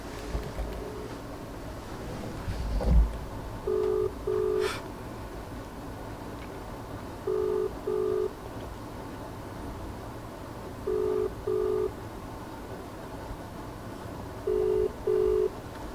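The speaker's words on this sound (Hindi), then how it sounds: "मैं कॉल लगा रहा हूँ आपके सामने" A phone call rings out over speakerphone, faint ringback tones arriving in spaced pairs at steady intervals against a quiet room hiss, after a brief thump near the start; nobody speaks.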